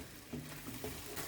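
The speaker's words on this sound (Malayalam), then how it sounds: "വീണ്ടും ഒരു മീഡിയം ഫ്ലെയിമിൽ ഇവനെ വഴറ്റുന്നു." Chopped green chillies sautéing in chicken gravy on a medium flame, a faint, continuous low sizzle with soft stirring, brief and quiet, no voices.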